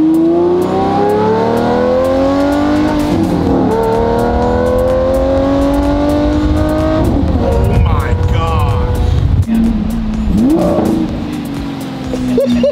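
Lamborghini Murcielago driving with its engine revving, a loud steady drone rising in pitch through several gear pulls, with brief shifts and a sharp rev burst near the end, voices talking over it.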